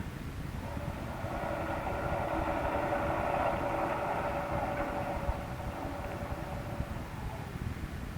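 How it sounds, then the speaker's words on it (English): Radio drama sound effect of a submarine engine running with a fouled propeller: a steady, continuous mechanical drone with a low hum, holding at an even level throughout with no voices. "The engine room reports the propeller is still fouled, sir."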